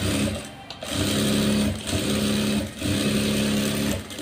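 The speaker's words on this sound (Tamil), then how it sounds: "அடுத்து அதே இதை திருப்பி ஒரு அமுக்கு தையல் ஒன்று போட்டுக்கலாம்." Sewing machine stitching blouse fabric, a loud close continuous motor whirr with a rhythmic stitching pulse that briefly dips a few times.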